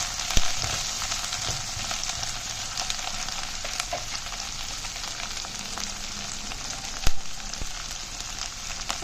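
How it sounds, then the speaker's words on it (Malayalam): Sliced okra (lady's finger) sautés in oil for vendakka pachadi, giving a dense, even sizzle like steady hiss, with an occasional scrape or clack of a spoon against the pan, close and without talk. "ഇതിന് ഈ എണ്ണയ്ക്കകത്തിട്ട് നമുക്ക് നന്നായിട്ടൊന്ന് വഴറ്റിയെടുക്കാം"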